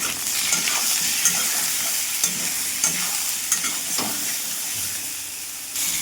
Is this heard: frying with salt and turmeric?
yes